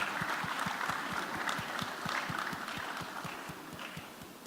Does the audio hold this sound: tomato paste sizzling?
no